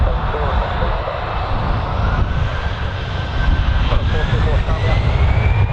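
Aircraft taking off at Birmingham Airport, a loud, sustained jet engine roar with a slowly rising whine that swells steadily, heard from nearby with faint radio voices in the background.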